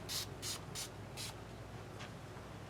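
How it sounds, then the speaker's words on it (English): Guitar Honey cleaner sprayed onto a Steinberger Spirit guitar: four quick hissing spritzes in steady rhythm, then a fainter fifth one after a pause, close and fairly quiet over low background hum. "I'm going to spray some guitar honey on here."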